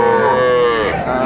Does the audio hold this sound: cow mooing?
yes